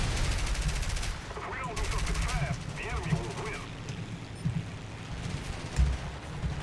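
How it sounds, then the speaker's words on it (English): Machine gun fire rattles at aircraft during War Thunder air combat, bursts of rapid shots under continuous engine drone, with a voice talking over them. "Are we getting shot at? Yes, we are getting shot at."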